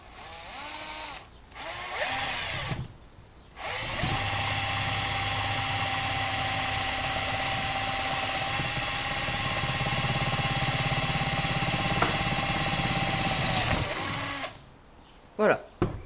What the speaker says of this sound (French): Je perce ces 2 trous, je vais y aller tranquillement.